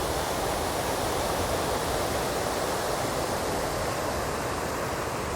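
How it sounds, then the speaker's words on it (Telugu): Water pours steadily from a check dam near a waterfall in Andhra Pradesh, a loud continuous broadband rush with no pauses and no voices. "ఈ చెక్ డ్యామ్ నుంచి వాటర్ ఇలా డౌన్లోకి వస్తుందండి"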